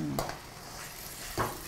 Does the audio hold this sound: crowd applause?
no